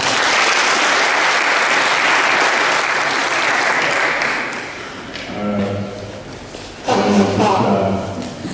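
Audience applause at a keynote speech, a loud sustained burst of many hands clapping for about five seconds, then fading as a voice speaks over scattered claps, with a second swell of clapping near the end.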